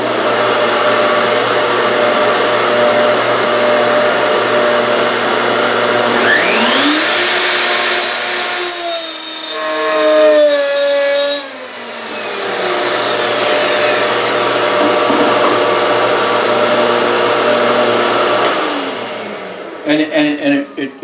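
A Festool OF 1400 router makes a right-to-left cut, a loud sustained whine that rises in pitch and shifts through the pass, then winds down near the end.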